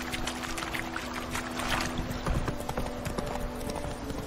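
Horse hooves clip-clop at a steady trot in The Witcher 3, a continuous rhythmic patter under a low ambient drone with no talk.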